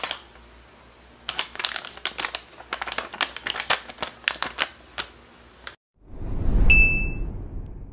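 Crinkly plastic and cardboard packaging of an Etude House x Hershey's cookies and cream makeup palette rustles and crackles in quick close bursts, followed by a brief rubbing sound with a high chime.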